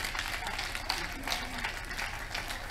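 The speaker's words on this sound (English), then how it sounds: "A big clap offering to Jesus." A crowd at a church crusade in Abuja claps together in a steady, dense burst of applause, fairly loud and sustained, with voices mixed in underneath.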